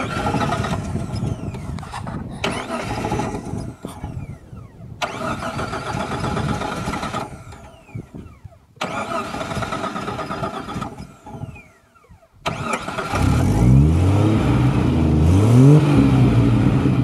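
A Jeep with an unfixed fuel pump problem and a leaking clamp cranks in several loud, broken bursts, then catches and runs with a steady mid-pitched engine note. It sounds close by and carries no talk.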